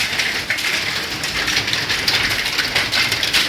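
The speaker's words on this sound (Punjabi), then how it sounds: "ਇੱਧਰ ਵੀ ਦੇਖ ਸਕਦੇ ਆ ਗੜੇ ਵੱਜ ਰਹੇ ਆ" Hail and heavy rain pelt hard surfaces during a windy storm in Punjab, a dense continuous hiss and clatter of rapid impacts, loud and close, with no voices.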